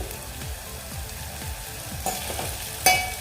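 Tomatoes sauté in oil in a pan over a medium flame for a black kidney bean curry, giving a steady close sizzle. Spatula scrapes and taps cut through it, with a sharper clack near the end.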